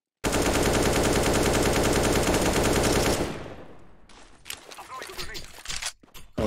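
Rapid automatic gunfire sprayed at boxes in a Source Engine game, a dense loud burst lasting about three seconds before cutting off, followed by scattered quieter shots, clicks and footsteps with people talking.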